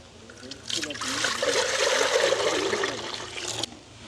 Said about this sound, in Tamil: இப்போ நல்லபடியாக கழுவி எடுப்போம்